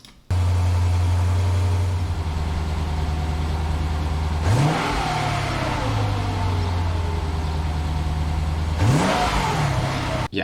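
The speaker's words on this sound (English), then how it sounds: "Whenever you're ready to rev it." Car engine revved while parked, a steady drone that twice rises into a sharp rev and drops back, loud and close, with no talking.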